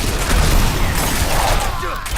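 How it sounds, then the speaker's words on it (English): Explosions from blast wave shrines in the Diablo 4 video game, a Rogue run in a World Tier 3 Nightmare dungeon, keep booming and crackling in a dense, loud barrage. A voice talks over them. "Today's really all about explosions, isn't it?"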